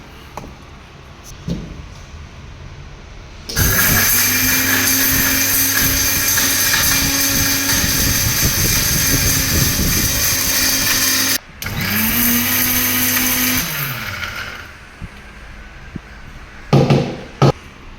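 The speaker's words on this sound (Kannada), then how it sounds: "ಈ ಥರ ರುಬ್ಕೋಬೇಕು ಶುಂಠಿ ಹಸಿಮೆಣಸಿನ್ಕಾಯಿ ಗೋಡಂಬಿ" A mixer grinder whirs loudly while grinding ginger, green chili and cashews, running in two long bursts with a brief pause between, then winding down and stopping near the end.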